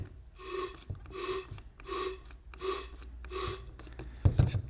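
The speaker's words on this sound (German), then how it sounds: "Ich sprühe fünfmal in den Messbecher rein" A wheel cleaner spray head sprays into a measuring cup in five evenly spaced hissing bursts, each with a faint mechanical click, in a steady rhythm, close and fairly quiet.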